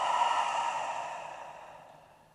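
A slow exhale through an open mouth, close and breathy, starting strong and fading steadily over about two seconds with no talking.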